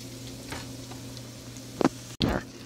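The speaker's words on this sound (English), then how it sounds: "So now, I'm going to slowly add my tomatoes, so I don't throw hot butter everywhere." Tomatoes slid into a pan of hot butter, giving two short bursts of sizzling, the second louder and sharper, over a low steady hum of the stove.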